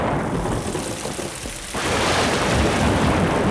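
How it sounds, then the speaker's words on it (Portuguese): Heavy rain pours in a dense roar as a deep thunder rumble swells and keeps rolling through the second half, a loud flood-like storm with no voices. "as comportas do céu se abriram, e a chuva caiu sobre a terra 40 dias e 40 noites"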